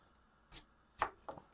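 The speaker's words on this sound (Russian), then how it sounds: "Вот такую картошку я на 3 части режу." A knife slices a potato lengthwise into three pieces on a board, giving three short, separate chopping thuds that sound close and crisp against a quiet background.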